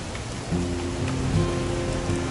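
Steady rain falls in the video game What Remains of Edith Finch, a soft continuous hiss with a low tonal hum entering partway through.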